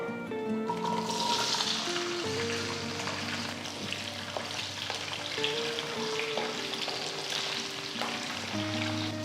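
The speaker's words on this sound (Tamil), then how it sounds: "நான் இப்போ மெதுவாக இந்த சின்ன வெங்காயத்தை முழுசாகவே போடுறேன்" Whole small shallots are dropped into hot oil with crackling mustard seeds for sambar, giving a loud, continuous, close sizzle and frying hiss over a steady low tonal background.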